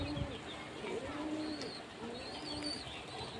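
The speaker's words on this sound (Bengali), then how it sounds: "বাচ্চা পায়রা মনে হচ্ছে, ছোট বাচ্চা" A young, colourful pigeon, a newly fledged squab, gives soft low coos close by amid faint bird chirps, with light background noise throughout.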